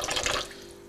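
Water gushing briefly from a household tap in an apartment building in Petrovsky settlement, a loud burst of running flow that quickly thins and fades to a weak trickle within a second.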